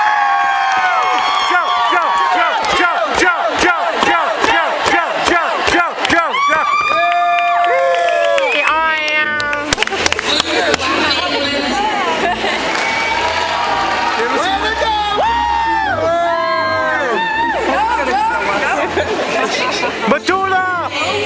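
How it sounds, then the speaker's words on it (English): Loud crowd at a graduation ceremony cheering, clapping and chanting in rhythmic bursts at first, then a sustained roar of cheers, shouts and applause throughout. "with his cheering section in the crowds, it was time to make some noise"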